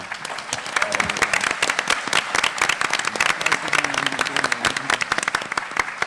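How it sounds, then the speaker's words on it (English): An audience at a policing forum on Martha's Vineyard gives the panel a loud round of applause, a dense, continuous crackle of many hands clapping close by, with faint voices mixed underneath. "if we can give a round of applause for"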